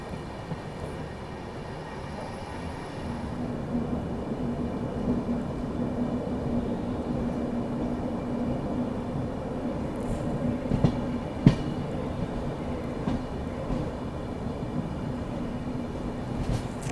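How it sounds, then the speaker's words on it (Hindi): The Haldia–Anand Vihar Express passing, a steady low rumble of rolling coaches with faint rhythmic clatter and a few sharp metallic clanks, moderately near and continuous. "यहाँ पर अपने से क्रॉस होती हुई हल्दिया आनंद विहार, हल्दिया एक्सप्रेस।"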